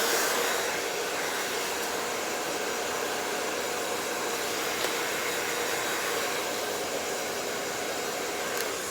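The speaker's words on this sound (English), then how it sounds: "Go ahead and blow dry this." Close, loud, continuous whoosh of a hair dryer blow-drying a blunt, textured bob in a salon, steady for the whole stretch with no talking.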